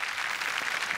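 Studio audience applause at a Marathi comedy show, a brief, fairly faint wash of many hands clapping, steady and uniform, heard alone.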